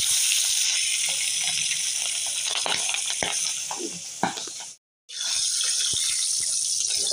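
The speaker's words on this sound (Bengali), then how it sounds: "তেল গরম হয়ে গেছে, মাছগুলো একটু ভেজে নিই।" Pabda fish fry lightly in hot oil, giving a continuous bright sizzling hiss with scattered crackles and pops. The sizzle cuts out abruptly for a moment before resuming at the same level.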